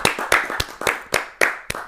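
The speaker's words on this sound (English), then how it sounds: "more live hand clap." Live hand clapping on a podcast set: about seven sharp, evenly spaced claps close to the microphone, each a crisp separate hit with a little room noise between, and no talking.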